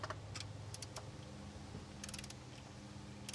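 Faint clicking of a ratchet or socket tool tightening intake manifold bolts on a Jeep 3.6L V6 engine, sparse short bursts of clicks over low background noise.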